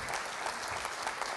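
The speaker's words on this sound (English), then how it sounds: "Round of applause." Brief applause from a conference audience at a debate, a short soft burst of many hands clapping together, somewhat distant.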